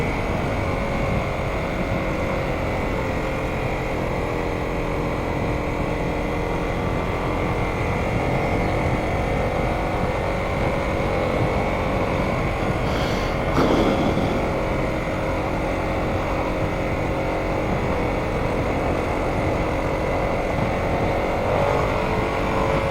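Harley-Davidson Sportster S motorcycle riding in first gear, its exhaust giving a steady, loud, droning engine rumble with a slightly rattly edge, with wind noise, continuous for over twenty seconds and a brief swell partway through.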